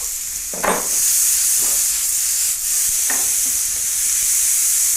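Onions sautéing in a pan with very little oil, a steady loud sizzle and hiss throughout, punctuated by a few soft stirring scrapes.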